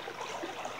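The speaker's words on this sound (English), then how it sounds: "Look at this beautiful creek." Abrams Creek in the Smoky Mountains flowing steadily, a brief close wash of rushing water with no voices.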